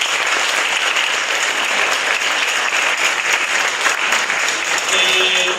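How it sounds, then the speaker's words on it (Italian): Crowd at the Italian music event Note su Note applauding, a full, even roar of clapping that holds steady throughout, loud and close. "Un applauso anche ad Adriano"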